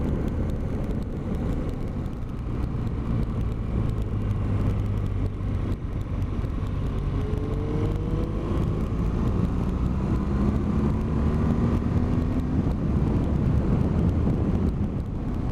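Motorbike engine droning steadily with heavy wind buffeting over a road ride through the Essex countryside, a continuous loud rush with slowly rising engine tones.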